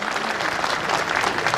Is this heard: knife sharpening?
no